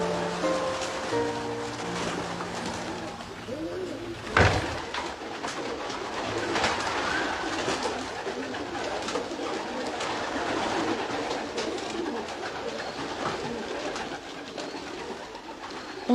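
Racing pigeons coo in a Belgian loft, soft and continuous, with a blur of wings and rustling and one sharp knock partway through.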